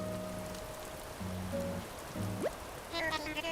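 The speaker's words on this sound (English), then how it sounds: "And it's already raining." Rain falls in the video game Animal Crossing as a steady, soft patter across the whole stretch, under short game music tones and chimes.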